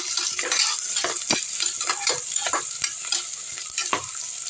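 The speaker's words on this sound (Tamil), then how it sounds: "வெங்காயம் நல்லா வதக்கி விட்டுக்கலாம்" Onions sauté in a pan under a continuous close sizzle, with regular stirring scrapes and light taps of the spoon on the pan repeating every half second or so.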